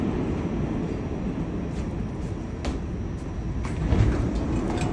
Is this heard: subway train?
yes